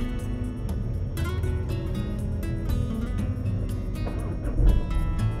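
Heard from inside the cabin, a Mazda Atenza sedan XD with a diesel turbo and six-speed manual restarts after an idle stop. A sudden catch and clatter settles into a busy, rumbling diesel idle for several seconds.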